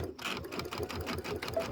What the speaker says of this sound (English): Little back stitch right there.